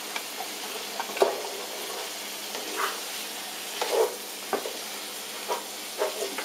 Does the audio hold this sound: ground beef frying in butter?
yes